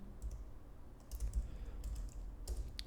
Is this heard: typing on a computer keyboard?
yes